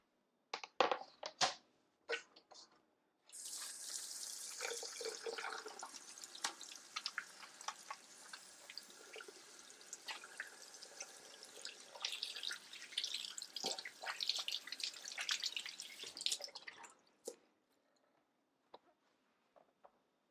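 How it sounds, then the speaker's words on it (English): Hands are washed under a running kitchen tap, a steady splashing hiss lasting about fourteen seconds, framed by a few clatters and knocks before and after. "give me 1 minute to just wash my hands"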